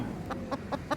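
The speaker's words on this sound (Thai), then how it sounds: "ก็ได้ยินแต่เสียงไก่ร้อง" Chickens in a village coop cluck and call in four short, bright bursts spaced across a second, fairly close, over a low background hum.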